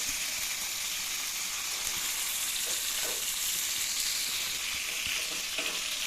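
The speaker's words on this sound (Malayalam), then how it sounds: "ആ സെയിം ടൈമിലുള്ള നമ്മുടെ ഫിഷ് ഫ്രൈ സെറ്റ് ആയിക്കൊണ്ടിരിക്കുകയാണ്" Mackerel sizzles steadily in a frying pan, a dense continuous hiss of hot oil with faint crackles and pops throughout, close and even, no voices.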